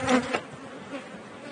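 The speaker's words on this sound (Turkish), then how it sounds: "Anne arımız kraliçe dedikleri arı. Bütün kovanın işlevini sağlayan arı." Honeybees buzzing around a hive kept by a family beekeeping operation, a steady droning hum with a louder close pass near the start, then a fainter continuous buzz.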